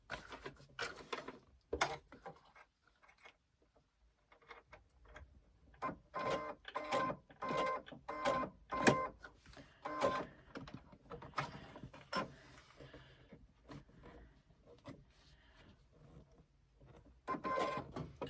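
A sewing machine with a zipper foot stitches a zipper into a handbag in short uneven bursts of rapid mechanical ticking, separated by quiet pauses.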